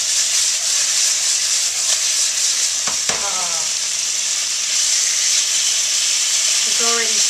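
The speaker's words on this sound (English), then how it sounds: "It's already searing and browning on all sides." Beef for shaking beef (bò lúc lắc) sears in a hot wok, giving a loud, continuous close-up sizzle and hiss, with a couple of brief scraping stirs cutting through.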